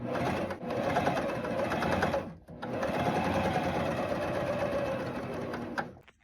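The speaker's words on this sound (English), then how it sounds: "this is how I start and stop on my cover stitch, and it really makes cover stitching a lot easier with this Janome" A Janome cover stitch serger runs steadily while top stitching a jumpsuit with a denim look, a loud continuous mechanical whir with a brief pause mid-run before resuming, then stopping near the end.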